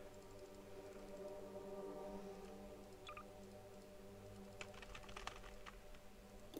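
Computer keyboard keys click during a Half-Life 2 roleplay session: sparse, close taps, with a small cluster in the middle and a busier burst near the end, over a constant low hum.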